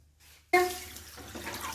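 Water pours into a pan of sugar for syrup in a home kitchen: a brief, sudden splash after a quiet moment, then a soft continuing trickle and patter.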